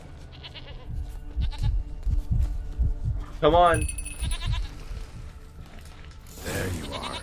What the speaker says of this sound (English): I heard the goat. I must save the goat.